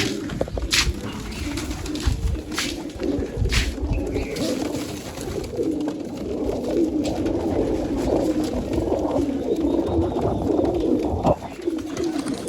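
Several pigeons coo steadily and close by in a loft, their low rolling calls overlapping continuously, with occasional sharp knocks and wing flutters over the top.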